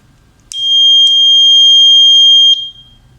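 An electronic buzzer on a GSM-based fire and door alarm system sounds one loud, steady high-pitched tone lasting about two seconds, beginning with a couple of brief chirps and then cutting off.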